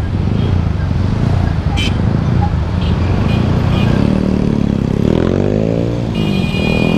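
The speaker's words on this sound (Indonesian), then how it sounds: "Ini CB Herek, hedon bagus tapi rapi motornya." Honda CB motorcycle passing on a mountain road at Gunung Pancar, a loud, close engine rumble rising as it goes by amid steady traffic and wind noise, with a voice talking over it.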